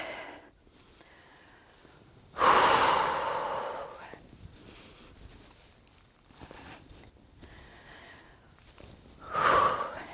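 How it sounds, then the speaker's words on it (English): Heavy breathing during an upper-body workout: two strong, forceful exhales several seconds apart, with softer breaths and faint movement noise between them. "Make sure you're breathing."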